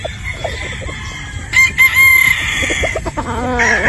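A battle stag gamecock of the tenheads line crows once, loud and nearby, preceded by quieter clucks, with another bird's call starting at the end.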